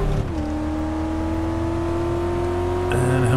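A car in Car Mechanic Simulator 2014 accelerates sluggishly, its engine holding a steady, close droning whine that climbs only slightly, with a faint rise near the end.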